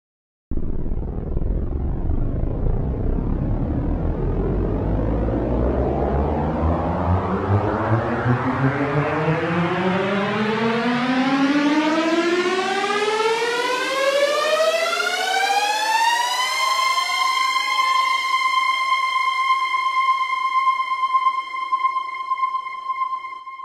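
A synthesized riser made in Serum climbs steadily in pitch out of a noisy wash and then settles on a sustained bright tone, loud and continuous throughout.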